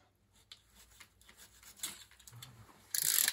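A part being cut during installation of a Nike pH regulator: short close scraping and snipping sounds, then a louder, bright rasping cut at the end, with no talk.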